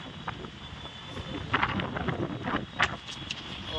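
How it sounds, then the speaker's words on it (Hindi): Very strong wind gusting outdoors in Ahmedabad, a continuous rushing roar buffeting the microphone, with louder bursts partway through and no voices. "यहाँ पे बहुत तेज, बहुत बहुत बहुत बहुत ज़्यादा तेज हवा चल रही है।"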